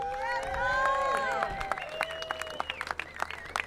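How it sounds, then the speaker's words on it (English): An audience at the NYTS 2017 finals applauds coach Tom Goodspeed with cheering voices and whoops at first. The crowd's claps then thin into scattered, crisp individual claps heard at moderate distance. "How about a big round of applause for Tom Goodspeed?"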